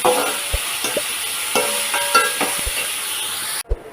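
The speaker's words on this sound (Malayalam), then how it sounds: "ഇങ്ങനെ വഴറ്റി കൊടുക്കുക" Onions sauté in a pan for a coconut milk shrimp roast, with a soft continuous sizzle and several sharp clanks and scrapes as a spoon stirs them, ending in a brief knock.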